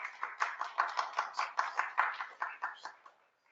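Audience applause in a lecture hall after a speaker is introduced: a steady patter of many hands clapping, moderately loud and close, tapering off and fading out over a few seconds.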